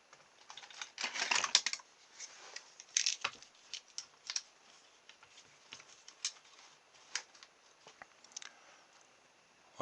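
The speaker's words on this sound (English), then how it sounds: "So I'm now just scoring a line round" Knife scoring a line around a model sea plane boat hull to cut an opening for a motor: quiet, irregular scratchy scraping strokes, close and faint, with no voices.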